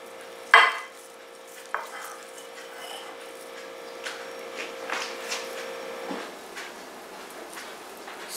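Fish lands in a PowerXL air fryer basket with a sharp clatter, followed by a lighter knock and soft shuffling as it settles, over a steady low machine hum.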